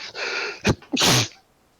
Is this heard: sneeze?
yes